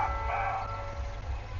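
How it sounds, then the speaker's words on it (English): A car alarm in Otara plays a Batman-themed electronic melody, a bright tonal phrase sounding clearly at first and then fading into a steady low rumble of surrounding noise. "It's got his I am Batman alarm going off"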